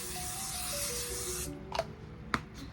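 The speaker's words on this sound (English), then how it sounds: "give it a good spray." Makeup setting spray misted in one long continuous hiss lasting about a second and a half, close and fairly loud, followed by a couple of short, sharper spritzes.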